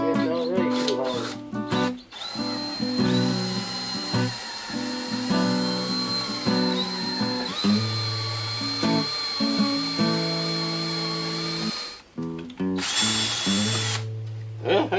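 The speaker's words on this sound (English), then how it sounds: "We'll drill a hole right there if I can." A power drill bores a hole through a knife blade, a loud steady whine with harmonics that comes in repeated bursts over about fifteen seconds as the trigger is pressed and released, and the motor pitch shifts with load.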